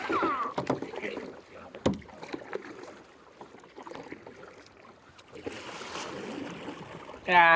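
A rowboat paddled across Kantale tank, with splashing strokes and water wash alongside wind noise outdoors and a sharp knock partway through, continuous and fairly close, with no one speaking.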